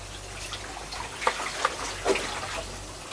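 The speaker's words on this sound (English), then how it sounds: "Sounds good, water's moving." Water flowing through an opened seacock on a sailboat, a soft, continuous trickle with a few brief splashy bursts, faint and close by.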